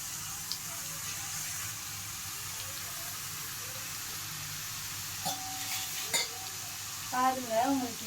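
Potato chip slices frying in hot oil give a steady, close sizzling hiss that runs the whole time, with a few brief clinks and a short voice near the end.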